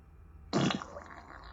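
Creamy fart sound effect played by an Alexa smart speaker, a single short wet burst that trails off into a softer sputter after a moment of quiet.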